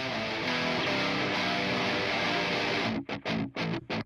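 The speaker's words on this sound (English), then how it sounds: "So I added the tape machine, True Iron, and the virtual mix rack." Electric guitars from a live competition mix, run through a tape machine emulation, True Iron and a virtual mix rack, sounding thick, loud and saturated, then cutting into several abrupt staccato hits in the last second.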